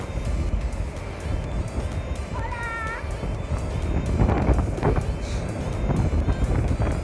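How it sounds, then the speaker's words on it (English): Strong sea wind blows at a hot seaside spot in Ocho Rios, Jamaica, buffeting the microphone with a loud, gusty rumble throughout, along with brief faint background sounds. "It's very windy, especially for a place that is this hot. The wind from the sea is awesome."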